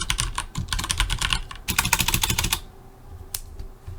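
Rapid clattering keystrokes on a computer keyboard while code is typed, nearby and fairly loud, in dense bursts with a short pause and a final isolated tap.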